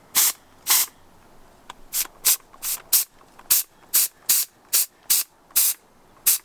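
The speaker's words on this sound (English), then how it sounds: "We got our steamer ready." Handheld steamer spraying hot steam in about a dozen short, sharp hissing bursts at an even rhythm, loud and close, with quiet pauses between them.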